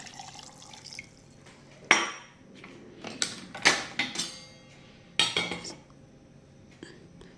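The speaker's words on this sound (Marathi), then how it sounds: "1 ग्लास अजून पाणी टाकायचं." Water splashes into a container in a few short bursts, a glass at a time, with quiet pauses between pours.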